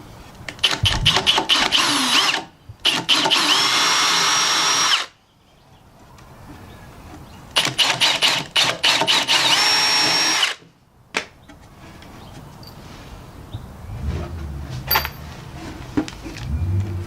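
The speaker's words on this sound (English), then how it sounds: "now we'll go ahead and match the edges and pre-drill and mount it as well." Two long bursts of a power drill whining loudly up close while pre-drilling wood, each stopping abruptly, followed by quieter rustling and light clattering.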